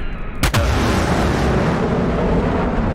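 A loud, sudden explosion in the combat flight simulator DCS World, a sharp blast followed by a long, heavy rumbling roar that fills the rest of the moment.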